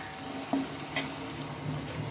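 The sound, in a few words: ginger, cumin and dried chilli frying and being stirred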